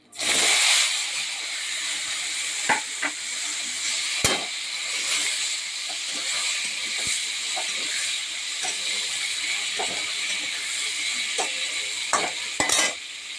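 Fried vegetables with cucumber being added sizzle steadily in a frying pan, a constant close hiss broken by repeated sharp scrapes and taps of stirring, with no talking.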